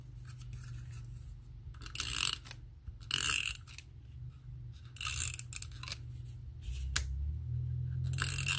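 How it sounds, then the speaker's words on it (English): An adhesive tape runner is pressed along a card in several short, crisp scraping rolls separated by pauses, quiet and close, with faint handling sounds between strokes. "I just want it to be very secure, so that is what I'm choosing to use my adhesive tape runner here."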